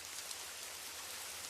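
A rain sound effect from an audio drama: a steady, soft hiss of falling rain, even and unbroken, with no voices.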